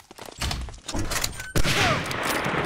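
Gunfire from a sniper rifle in an online shooter game, with a sharp loud shot near the middle over busy game effects and background noise.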